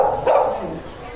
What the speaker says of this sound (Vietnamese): Chó kia chị này, chó đằng sau chị ạ.